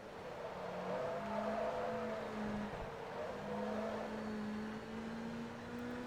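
A race car engine in Forza Motorsport 2 during a Sparco 200HP Invitational race: a faint, steady motor drone that climbs and falls in pitch through gear changes, heard alone.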